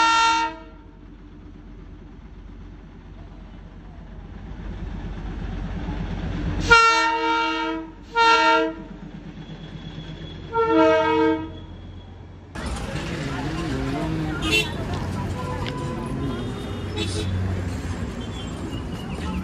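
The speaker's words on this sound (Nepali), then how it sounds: "र साथीभाइहरू रेल आउँदैछ, हेर्नुहोस्।" The Darjeeling toy train approaches, sounding several short horn toots in a cluster with rising engine and rail rumble close by. People talk around it.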